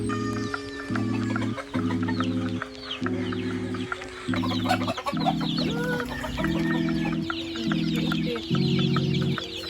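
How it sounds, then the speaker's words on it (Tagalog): Chickens cluck steadily throughout at feeding time, several birds overlapping in a busy, close farmyard chorus with repeated short calls and no talking. "Sabay natin siya magpakain ng manok."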